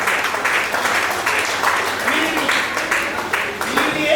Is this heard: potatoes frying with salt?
no